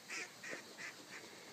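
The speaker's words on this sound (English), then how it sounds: "you got so many ducks down there, Tim." Ducks calling on the water at a duck hunting spot: four short honking, goose-like calls spaced evenly over a second and a half, fairly faint and a little distant, with no talking.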